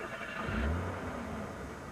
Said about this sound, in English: I think that's Sam's car.